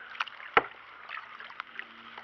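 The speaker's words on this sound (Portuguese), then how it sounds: "Aí o caiaque na água." An Apache kayak sits and moves on water, producing soft, faint paddle and water splashes with one sharper knock of hull or paddle against the boat near the start, quiet and close.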